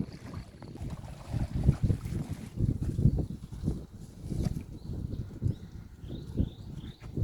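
Wind gusts buffet the microphone beside the Mun River in the morning, a loud, uneven rumbling roar that swells and fades in bursts throughout, with faint high chirps near the end.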